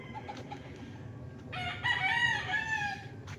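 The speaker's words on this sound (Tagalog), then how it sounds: "Daming alagang manok mga kapraps." Chickens and roosters on a farm in Nagcarlan, with scattered clucking followed by a loud, sustained crow from a nearby rooster.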